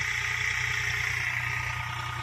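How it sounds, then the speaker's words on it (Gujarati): Tractor engine idling steadily on a sesame farm during sowing, a continuous low rumble with a broad hiss on top, close and constant with no talk. "ટ્રેક્ટર"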